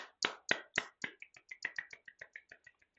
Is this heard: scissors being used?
no